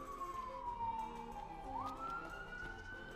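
Police sirens in the video game Final Fantasy XV wail at a distance, with one tone gliding slowly downward and then sweeping back up into a steady rising pitch.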